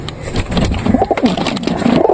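Pigeons in molt coo in low, repeated rounded calls, several birds close by with a steady throaty rhythm and no talking.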